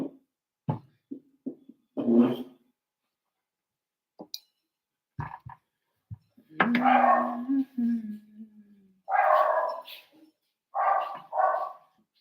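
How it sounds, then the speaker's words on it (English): Dogs barking in short separate bursts at moderate distance, several sharp yaps and a couple of longer barks spread out with quiet gaps between them. "Why are the dogs barking?"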